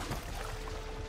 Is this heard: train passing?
no